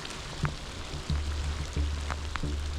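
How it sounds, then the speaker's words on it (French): Rain falls with a steady hiss during a sea bass fishing competition on the Normandy coast, broken by a few sharp taps and knocks over a low rumble. "Ça se complique, la pluie est là."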